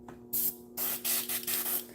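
An airbrush sprays paint onto model tanks in several short hissing bursts, separated by brief pauses, close and fairly soft.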